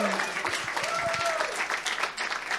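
A stand-up comedy talent show audience applauds steadily as a performer leaves the stage, a continuous patter of clapping hands in a room, with a voice speaking over it at the start.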